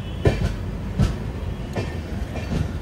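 An express train on the line near Vijayawada rumbles past, with rhythmic wheel clacks at regular intervals over a steady low roar, loud and close, with no voices.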